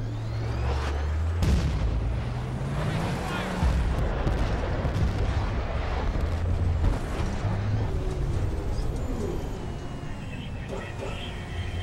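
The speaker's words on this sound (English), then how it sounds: "Confirming fire mission. Shells inbound." Artillery shells pound a position in a video game, a continuous roar of booming impacts and rumbling blasts, dense and loud throughout, with voices talking over the barrage.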